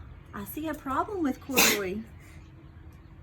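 A child sneezes once, sharply and close by, during a story reading, with someone speaking just before and after it.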